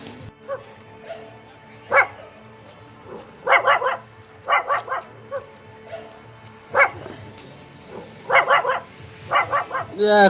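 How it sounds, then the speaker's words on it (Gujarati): A dog barks repeatedly in short bursts and clusters, fairly close, with brief pauses between, against a faint background of voices. "કૂતરો ઊંઘવા દેતા નહીં"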